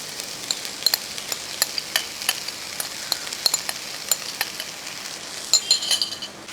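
Stirring drumstick flower thoran with grated coconut, garlic and green chilli in a pan, Kerala style, with steady scraping and light sizzle and the odd clink of a spoon against the pan.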